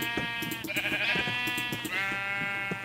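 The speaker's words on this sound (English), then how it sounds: "I've had a sheep or something." Sheep bleating in the video game Minecraft, a few wavering, nasal bleats in a row with small clicks and game sounds between them.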